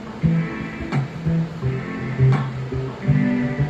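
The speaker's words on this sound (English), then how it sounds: "what you're hearing is basically the guitar player with the strings" A produced music track plays guitar with a string part, sustained pitched notes shifting in a slow rhythmic pattern at moderate volume, with no voices.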